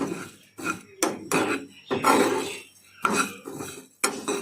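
Spices roasting in a pan over a flame, stirred continuously with a utensil, giving a series of close scraping and clinking strokes against the metal at an uneven rhythm, with short pauses between them.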